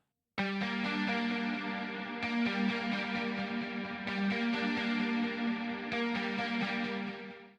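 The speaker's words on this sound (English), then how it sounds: "Also using UJam up here on the electric guitar." Electric guitar chords from a UJam virtual instrument, heavy with chorus and distortion effects, strummed in a slow repeating pattern, loud and sustained with no voices.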